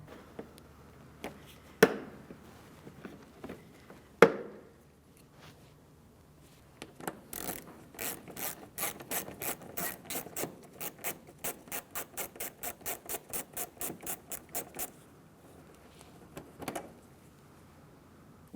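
A power screwdriver backing out Phillips head screws from the front wheel well trim of a 2016-2022 Honda HR-V, a few sharp clicks and knocks followed by a long, steady run of rapid ratcheting bursts up close.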